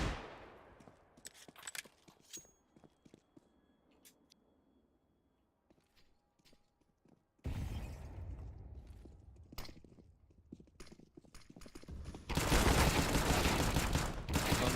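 Gunfire from Counter-Strike on the map Train, with AK rifle shots popping in scattered bursts. A dense, loud rush of gameplay noise takes over in the second half.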